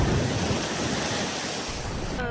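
Ocean surf at the seashore in Dwarka, Gujarat, washes in a steady, dense roar mixed with heavy gusting wind buffeting the microphone, loud and continuous throughout.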